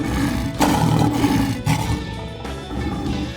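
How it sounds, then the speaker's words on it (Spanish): A lion roars nearby: deep, loud rumbling bursts repeating in a rough rhythm over a few seconds, with nothing else heard. "Un rugido de león puede escucharse a 8 kilómetros."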